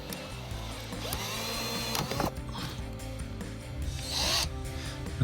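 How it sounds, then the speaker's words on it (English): Plastic rivet being pried out of a rear diffuser on a 2015-2023 Dodge Charger, giving close, quiet clicking and scraping with a brief squeak, and no talking. "The rivet comes off."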